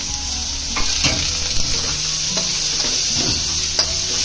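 Chopped potatoes fry with bitter gourd in a pan, a steady loud sizzle throughout with several scraping stirs and taps of a spatula against the pan.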